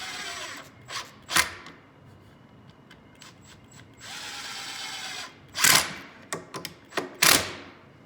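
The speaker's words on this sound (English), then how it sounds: "now when we put the screws in, they're gonna be hidden" Pocket hole screws driven into wood by a power drill, a few short whirring bursts with gaps between them, close and moderately loud, with no speech.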